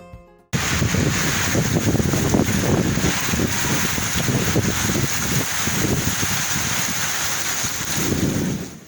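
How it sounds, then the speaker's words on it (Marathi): Strong gusting wind with a hailstorm roars continuously with a dense rushing, pattering texture, loud and close, after a brief quiet start, in the Bhandardara area of Akole, India. "भंडारदरा परिसरामध्ये वादळी वाऱ्यासह गारांचा पाऊस झाला"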